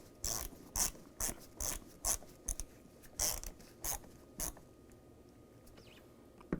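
Hand ratchet snugging down the screws of a mass air flow sensor on a 2007-2013 Chevy Silverado, going into plastic: about a dozen short, crisp clicking bursts in an uneven rhythm, close and clear with no talk.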